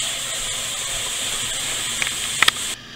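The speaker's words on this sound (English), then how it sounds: "Now I have to hurry and wash my pan." Loud steady hiss of water hitting a hot cast iron pan, with a couple of brief clanks near the end before the sound cuts off.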